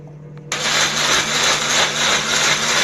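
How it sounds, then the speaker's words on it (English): A kitchen blender grinds cooled cooked ingredients into a fine paste for a homemade veg pizza sauce; after a brief quiet hum it kicks on abruptly into a loud, continuous high whir that holds steady to the end. "Shifting this to a blender."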